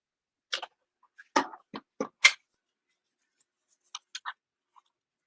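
Craft material is being cut in a quiet room: a cluster of short, crisp snips and clicks comes close together, then a pause, then a few more sharp snips, near and fairly soft.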